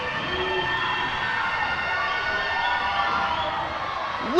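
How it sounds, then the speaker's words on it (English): A crowd roars during a women's volleyball match against Stockton, a steady dense wash of cheering and shouting that holds throughout and swells sharply right at the end. "Listen to this crowd."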